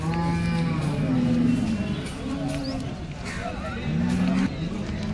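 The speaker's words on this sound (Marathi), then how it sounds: "ही आता वेलेली गाय आहे" A cow at a livestock market in Sangola lets out repeated low moos, loud and close, over a steady background of crowd chatter, traffic and other market noise.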